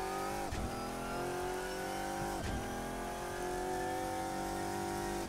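A GT1 race car engine in the Assetto Corsa sim at the Nurburgring drones loud and steady, with two sharp dips where the revs drop and climb back between gear changes.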